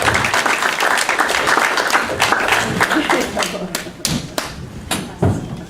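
Audience applause at a church gathering, a loud dense burst of many people clapping that thins toward scattered individual claps at the end, with voices mixed in.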